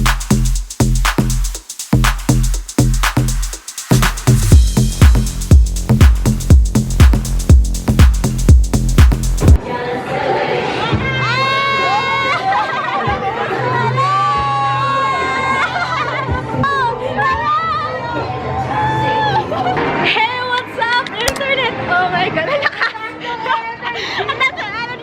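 Noisy crowd babble and chatter inside the Timezone arcade at Ayala Malls Manila Bay, a steady loud din of voices and game machines, with music loud at the start.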